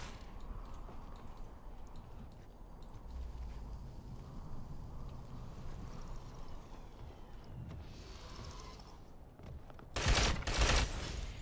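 Gunfire in the tactical shooter Ghost Recon Phantoms: a dense, continuous rattle of distant shots and action noise, ending in a loud burst of close fire.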